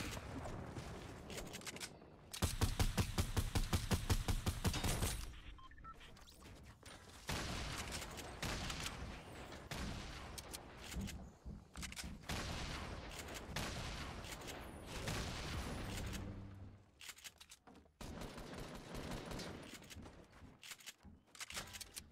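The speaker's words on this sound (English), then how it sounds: "This guy's shooting me." Fortnite battle royale gunfire, a fast rattling burst of shots standing out early, followed by scattered shots and loud game noise throughout.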